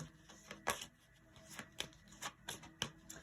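Tarot cards being shuffled by hand during a reading, a series of crisp riffling snaps and flutters in irregular bursts, close and fairly quiet, with no talking.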